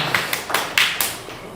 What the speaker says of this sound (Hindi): एक बार ताली बजा दो यार